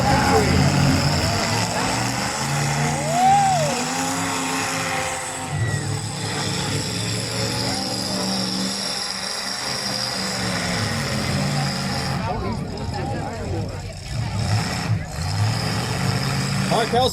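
Demolition derby cars at a North Battleford, Saskatchewan event rev their engines in a loud, continuous roar, with crowd noise and an announcer talking over the mix. No distinct crash impacts stand out.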